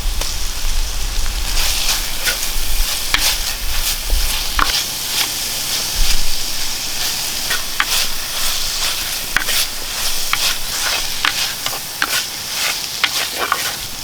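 Crushed ginger and garlic frying with onion in a pan for egg curry, a continuous loud sizzle with crisp crackles and repeated spatula scrapes as it is stirred, no voices.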